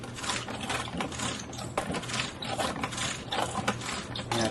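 A Barbie Flicker 'N Flash rollerblade spark wheel spins with a fast, continuous ratcheting whir, a dense mechanical rattle held close and fairly loud throughout, no voices.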